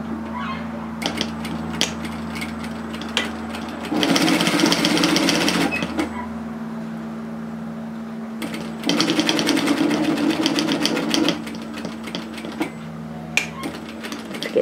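A sewing machine stitches a jacket seam, running in two loud sustained bursts of rapid stitching with quieter handling and clicks between them.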